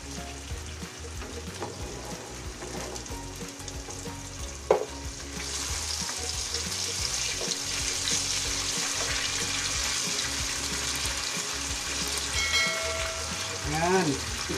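Pork and tofu fry in a pan with a steady, close sizzle and crackle, stirred now and then, the hiss swelling louder midway and continuing without break.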